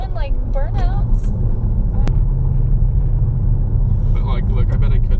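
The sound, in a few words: 400 HP V8 manual car revving, doing burnouts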